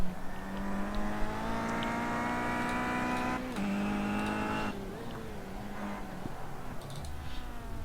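Engine of a BTCC touring car in the iRacing sim at Okayama, a steady sustained drone holding pitch, then dropping as the car lifts and shifts, with a faint commentator voice underneath.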